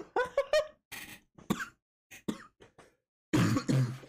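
Several short, harsh coughs in scattered bursts with pauses between, ending in a louder fit of coughing nearby.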